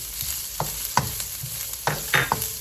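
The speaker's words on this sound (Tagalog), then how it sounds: "And then we're gonna add our onion." Onion going into a pan of browned garlic for Filipino sweet-style spaghetti, with a steady frying hiss under a few sharp scrapes and clinks of a stirring utensil, close by with no talking.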